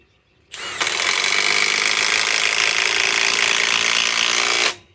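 A Harbor Freight Hercules impact driver removing a fastener, one loud, close, continuous rattling hammer burst of about four seconds that starts and stops abruptly, with no talking.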